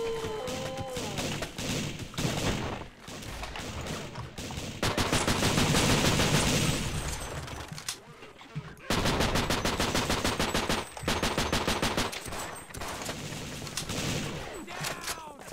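Sustained machine gun turret fire in the zombie shooter They Hunger, long rapid bursts of loud automatic shots with brief pauses, set in a chaotic war zone with military troops.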